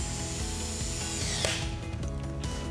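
Bolts on a Husky CR 7000 2-inch corrosion-resistant coupling are tightened with a torque wrench to 80 inch-pounds, giving a continuous ratcheting and clicking mechanical sound with a sharper click midway, close up and without speech.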